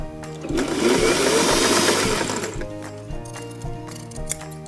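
A sewing machine runs along a dress seam during an alteration, a whirring burst that rises then settles into a steady stitching rhythm with a few clicks.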